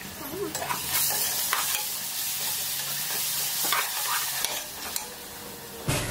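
Garlic frying in oil for Ambur chicken biryani, a bright constant sizzle close up, punctuated by several spatula scrapes and taps against the pan, ending with a sharper knock.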